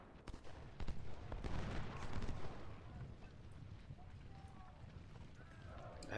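Crackling volleys of massed musket fire and scattered shots from a Civil War battle game at Cedar Mountain, dense and continuous across the clip, with a rumbling battlefield din and faint voice-like sounds underneath.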